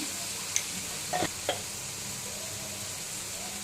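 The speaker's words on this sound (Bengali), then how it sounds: "পেঁয়াজটা বেশি ভাজবেন না, নরম হয়ে গেলেই এটা দিয়ে দেবেন।" Onion and spices such as salt, coriander and cumin powder frying in a pan for potato-onion kachori, a steady low sizzle with a few small clicks of stirring and no talk.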